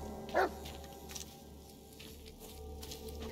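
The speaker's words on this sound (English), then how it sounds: "You're barking at me, bruh." A single short dog bark in the video game Blair Witch (2019) rings out near the start, then only a steady low background hum remains.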